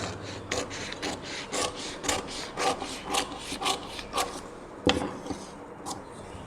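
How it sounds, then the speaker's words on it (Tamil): Scissors snipping through blouse fabric while cutting a princess-cut blouse, a steady run of close, crisp rasping cuts in a quiet room with no talking. "கழுத்து பகுதியையும் கட் பண்ணிக்கலாம்."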